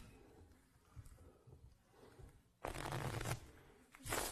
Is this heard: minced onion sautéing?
no